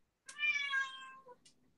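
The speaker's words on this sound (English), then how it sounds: "my cat's going to chime in every once in a while" A house cat gives one clear, drawn-out meow that rises and then falls, followed by a brief faint chirp, close by in a quiet room with no talk.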